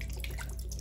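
Beer poured down a bathroom sink gives a steady, close trickle and drip of liquid splashing against the basin, running continuously with no voices.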